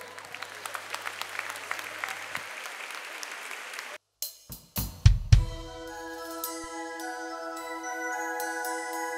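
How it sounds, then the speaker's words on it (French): A talent-show audience applauds for about four seconds, a soft spread of clapping, before the room gives way to a few heavy thuds and then sustained tonal music. "Sous vos applaudissements, mesdames et messieurs."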